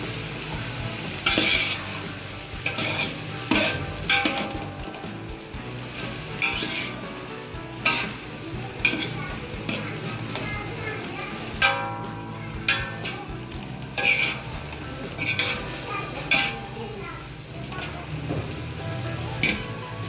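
Carrots and capsicum stir-frying in a pan for Chinese fried rice: steady soft sizzling with repeated scraping and stirring strokes and occasional light clinks of a utensil, fairly quiet and close.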